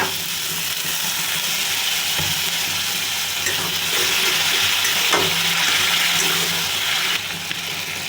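Spices with chili powder fry and are stirred in a pan for a ghugni dish: a steady, loud sizzle runs throughout with scraping stirs and occasional clinks, and no one speaks.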